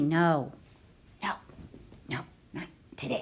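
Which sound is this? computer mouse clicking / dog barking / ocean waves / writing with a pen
dog barking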